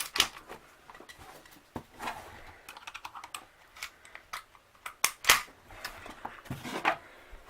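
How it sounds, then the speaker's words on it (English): Dry firing a Hi Capa airsoft pistol fitted with a 3D printed slide, running on propane with an empty magazine and no BB chambered: a scattered series of sharp, light mechanical clicks and clacks, fairly close and quiet, with no talking. "enough rambling, onto the shooting test, or dry firing."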